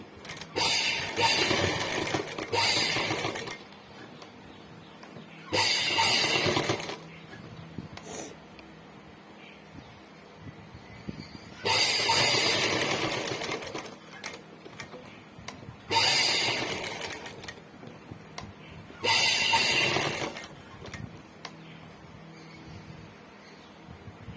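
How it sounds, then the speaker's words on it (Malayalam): A sewing machine stitching buttonholes in a blouse runs in five loud close bursts of rapid whirring and clatter, separated by quiet pauses. "ഈ മിഷനെ തന്നെ നമ്മൾ ഹോൾ ഉണ്ടാക്കി പോവുകയാണ്."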